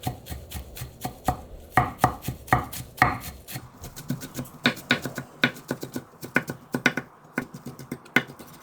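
A knife finely chops sea lettuce on a cutting board for a rolled egg omelette, giving a steady run of close, crisp taps with no talking.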